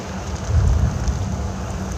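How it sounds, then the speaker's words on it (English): Thunder rumbles during a severe thunderstorm in northern Nevada, a low continuous roll swelling and fading under steady rain and wind noise, heard close by. "More thunder right by me."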